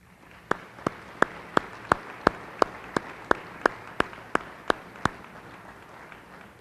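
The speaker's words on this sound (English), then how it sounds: "Let's all give a warm round of applause to the 2013 Pulaski County Civic Club of the Year, Liberty Nature Center." At a chamber of commerce banquet honoring a civic club, about fourteen sharp, evenly spaced claps ring out in a steady rhythm over a faint room murmur, then stop.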